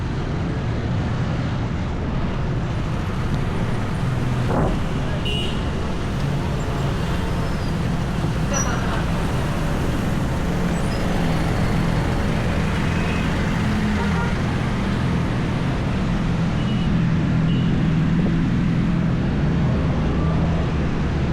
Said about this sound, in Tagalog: ganitong sitwasyon ang traffic dito sa may uh, patungo ng Matina